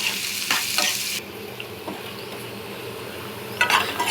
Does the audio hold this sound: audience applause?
no